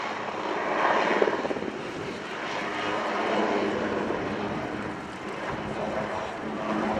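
Swiss Air Force display aircraft climbing away at the RIAT 2015 airshow at Fairford, a broad, surging engine roar that swells and eases over several seconds at moderate distance, with faint talk beneath.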